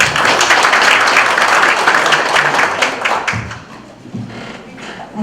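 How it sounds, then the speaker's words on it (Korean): An audience at a Korean national defense debate forum breaks into loud, dense applause to welcome a speaker, the clapping fading slightly toward the end. "큰 박수로 환영 부탁드립니다"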